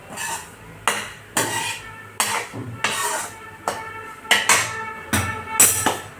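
A metal spoon stirring gram flour as it roasts in a pan, giving about a dozen sharp scraping clinks in an irregular rhythm, loud and close, with no talk.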